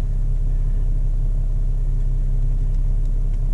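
A Subaru Outback accelerates hard from a standstill toward 60 mph, a heavy, steady engine and road rumble heard from inside the car, loud and continuous with no talking.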